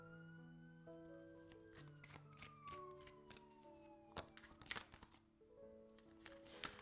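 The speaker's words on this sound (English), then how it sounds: "I'm sorry if you guys can hear the siren in the background" A faint siren wails and slowly falls in pitch as it passes in the background, while cards shuffle and tap closer by.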